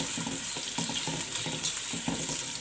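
Onions sizzling in hot oil in a pan for Afghani pulao, a bright continuous crackle with a rhythmic series of spoon-stirring scrapes and clinks close by.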